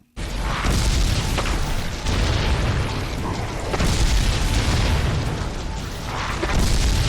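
Enemies blow up in the video game Golden Axe: Beast Rider, a dense, continuous rumble of booming explosions overlapping one another with no pauses.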